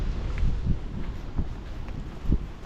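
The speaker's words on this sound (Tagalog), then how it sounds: "Medyo malakas ang hangin." Low, gusty wind rumbles against the microphone in uneven bursts, with a few soft thumps and rustles close by, at a dumpster area in Finland.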